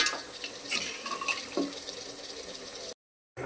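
Mutton sizzling and being stirred in a pot while browning for homemade biryani, a steady wet frying hiss with scraping stir strokes, close and moderately loud, cut off by a brief silence near the end.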